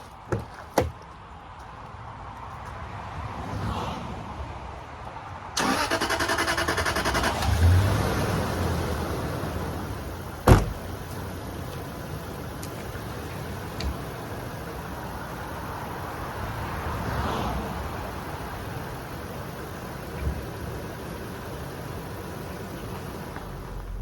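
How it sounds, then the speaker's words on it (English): A 2006 Range Rover Sport is started and left idling, with a short starter burst and a few clunks and knocks, then a steady, fairly loud engine idle. "We're gonna start it up, let it idle a little bit while I'm talking"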